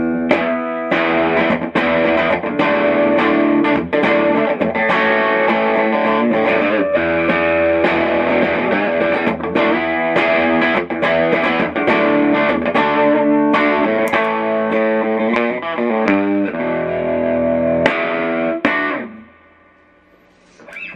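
Heavily distorted electric guitar through a TL Pedals King Klon overdrive gain stack plays chords and riffs with a thick, overdriven tone, ringing out and cutting off near the end.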